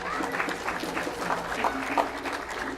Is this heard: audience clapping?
yes